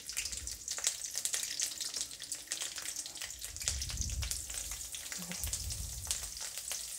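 Thinly sliced onions with curry leaves sizzle in hot oil in a pan while sambar rice is being cooked, giving a continuous faint crackling hiss with occasional stirring.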